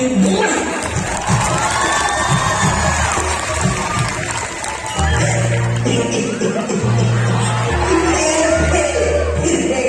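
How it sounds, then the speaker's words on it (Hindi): A school audience at a Children's Day skit at a high school in Patna, clapping and cheering with children shouting and whooping, loud and sustained throughout, with a raised voice briefly heard. "ठोको ठोको ताली।"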